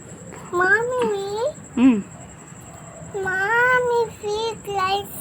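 A kitten meows several times up close, thin rising-and-falling cries in two bursts with a pause between, over a steady background hum and a faint high tone.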